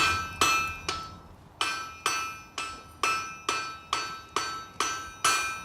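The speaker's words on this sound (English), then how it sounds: "We need to get on the side of the anvil, hammer half on, half off, and hammer it down." Hot metal is hammered on the side of an anvil, about ten loud, evenly spaced ringing blows, each with a bright metallic clang that decays before the next strike, no talk.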